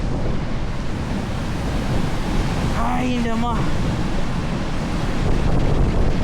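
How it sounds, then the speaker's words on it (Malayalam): Strong wind and rushing water roar steadily at Pagsanjan waterfall, a loud continuous wash with wind buffeting the microphone; a voice briefly speaks partway through. "നല്ല ഫോഴ്സുണ്ട്, നല്ല കാറ്റുണ്ട്."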